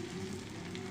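Aloo paratha sizzling in ghee on a hot tawa, a steady close crackle and hiss filling the short moment without pause.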